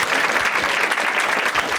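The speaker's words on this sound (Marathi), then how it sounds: "एकदा टाळ्या वाजवा या दोघांसाठी" A live audience at a Marathi stand-up comedy crowd-work show bursts into steady, dense applause, a loud continuous wash of many hands clapping with no break.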